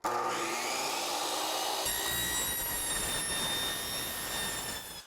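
Power saw cutting a pipe while making a Super Mario Bros warp pipe, a loud continuous whine that steps up in pitch about two seconds in and holds steady before trailing off at the end.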